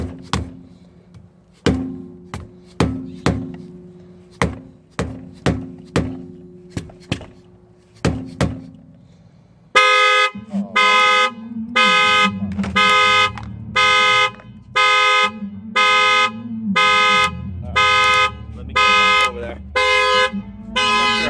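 A Tesla Model 3 car alarm sounding outdoors: first a series of sharp isolated clunks and chirps, then a loud, evenly repeated honking horn pattern pulsing steadily for about ten seconds.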